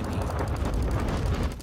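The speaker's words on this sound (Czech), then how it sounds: "tady nám to střílí" Dense, continuous rapid gunfire from the Day-D war-themed online slot game, a steady rattling barrage of shots and booms filling the whole stretch with no talk.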